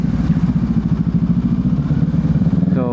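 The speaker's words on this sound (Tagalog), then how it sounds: "Ang ganda ng takbo ng motor ko ngayon." A motorcycle with a freshly replaced chain runs steadily on an open road ride, its engine throbbing loud and close in an even pulsing rhythm, with a brief sharper whine at the very end.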